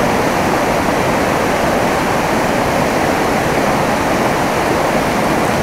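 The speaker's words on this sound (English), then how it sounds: "the music of this little Bureau Creek" A small creek called Bureau Creek flows steadily, its dense, even rush of water loud and close throughout with no pauses or voices.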